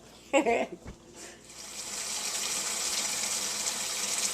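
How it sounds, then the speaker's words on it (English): Water runs steadily from a tap while hands are rinsed during corned beef preparation, a brief burst of a voice and a clunk at the start before a continuous hissing stream settles in. "make sure you keep rinsing your hands"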